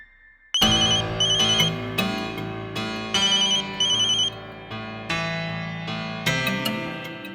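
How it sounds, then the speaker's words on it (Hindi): A mobile phone ringtone plays a loud, repeating electronic melody with bright chiming notes in a regular rhythmic pattern, heard alone in a quiet room. "तुम्हारा फोन बज रहा है।"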